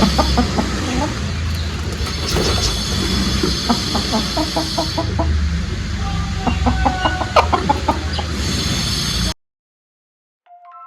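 Chickens cluck repeatedly in short rhythmic bursts close by, over a steady background hum, before the sound cuts off abruptly near the end.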